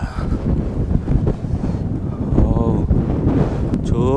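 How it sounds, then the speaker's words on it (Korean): Strong wind on an island mountain trail on Yeonhwado, Tongyeong, buffeting the microphone in loud, uneven rumbling gusts throughout. "오늘 바람 많이 부네요"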